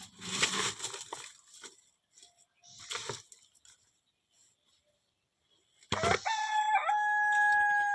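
Chickens at a rural home give a few brief clucks and scuffles, then after a quiet gap a rooster crows loudly and close by, in a long drawn-out call.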